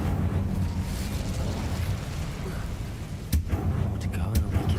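An Incendio fire spell in Hogwarts Legacy erupts with a fiery rushing burst that rumbles on under game ambience, followed by a sharp crack and further crackling flare-ups near the end.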